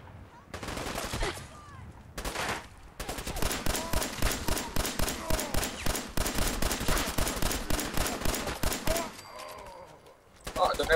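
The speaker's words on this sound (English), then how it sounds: "I love this pistol." Pistol fire from Fallout 4 rattles in a long rapid rhythmic string of sharp shots, loud and close, with brief gaps near the start and end and a voice speaking over parts of it.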